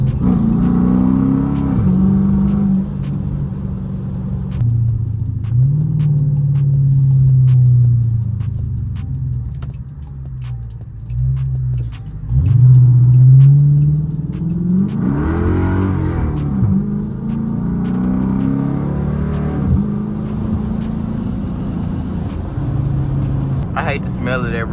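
A seventh-generation Dodge Charger R/T V8 heard from inside the cabin, its engine droning low and rising in several revs and accelerations, with someone talking over much of it.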